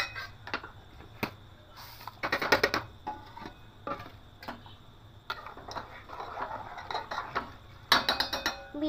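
Rice being added to milk in a pot for payesh, a series of quick rattling, ticking patters and clatters as grains spill in, coming in bursts with short pauses between.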